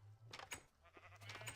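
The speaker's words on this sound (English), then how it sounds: "I bred a few more sheep" Sheep bleating in Minecraft, a couple of short, faint bleats close together over a low background hum.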